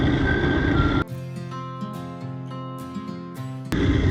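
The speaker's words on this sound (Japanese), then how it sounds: "ここのゴミ収集車があって音楽鳴らしながら行くんですね。" A garbage truck on Rishiri Island, Hokkaido, plays a melodic tune through its loudspeaker as it drives. The clear, sustained notes last a few seconds, and heavy rushing noise comes before and after them.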